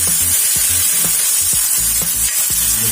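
Oil sizzling in a hot, smooth pizza pan, a loud, steady hiss of frying with irregular low thumps and clatters from a utensil moving over the pan.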